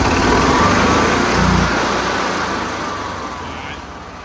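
An EZGO gas EFI golf cart engine runs with its air intake covered by a hand, a loud close engine drone that slowly fades and loses strength over a few seconds.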